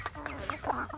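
Free-range village chickens (ayam kampung) give short, close clucks in a brief burst, with a few soft overlapping calls.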